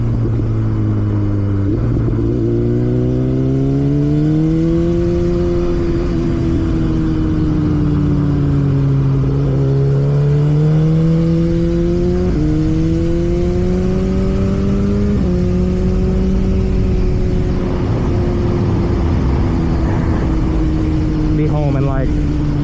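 A BMW S1000RR motorcycle ridden on an open road, its engine note rising and falling steadily through gear changes as a continuous loud drone, while a rider talks over it.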